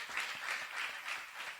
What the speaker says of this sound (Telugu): కొట్టండి చప్పట్లు ప్రభు.